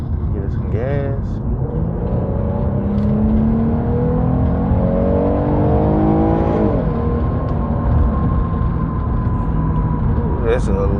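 A 2014 Jeep Cherokee engine accelerates from a start, heard from inside the cabin as a loud, steady rising drone that climbs in pitch, drops at a gear change, then keeps pulling, with a voice speaking briefly.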